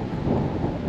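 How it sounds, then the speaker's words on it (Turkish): Strong wind blowing across a road on a coastal holiday trip near Köyceğiz, a loud, steady low rush buffeting the microphone throughout, with no voices heard. "Fena rüzgar."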